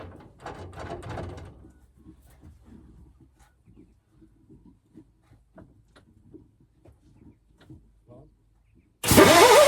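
A 1975 Mack FR700 8x4 truck engine cranks over in a series of rapid, regular low chuffs without catching, after a brief burst of talk. A sudden loud roar of engine or compressor noise cuts in at the very end.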